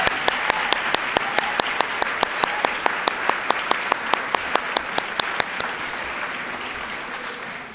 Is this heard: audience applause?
yes